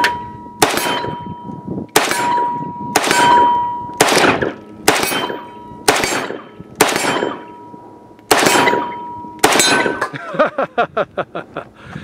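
Rifle fire at steel targets with a red dot sight on an AK-style rifle: ten sharp shots at steady intervals, each ending in a ringing metallic clang, then a fast rattling run of lighter impacts at the end.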